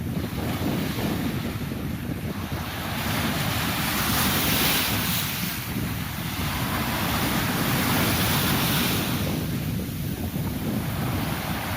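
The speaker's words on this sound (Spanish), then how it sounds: "Pero es el sonido de las olas." Ocean waves breaking in heavy wind, a continuous loud roar of surf with gentle swells in intensity and wind buffeting the microphone throughout, no voices.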